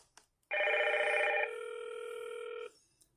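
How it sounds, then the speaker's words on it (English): A Hikvision IP PoE intercom door station rings its doorbell: one steady electronic chime tone holds for about two seconds, shifting pitch once partway through, fairly loud and close, with no talking. "Now all we have to do is ring the doorbell and see if it works."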